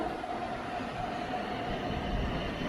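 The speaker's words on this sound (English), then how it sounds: "Here comes the train." A train passes in New York with a steady, rumbling roar of rolling cars and a faint high wheel tone, fairly close and continuous throughout.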